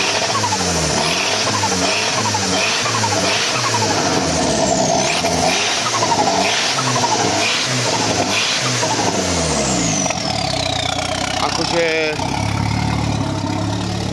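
A Škoda 130 fitted with a 1.4 MPI turbo engine, running rough and smoking black, revs repeatedly in loud rising and falling bursts close by, with a person speaking briefly over the engine.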